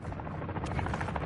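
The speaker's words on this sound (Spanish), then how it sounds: "Es helicóptero." A helicopter in a video game makes a steady, fairly loud rotor buzz and thrum, one short continuous burst with no speech.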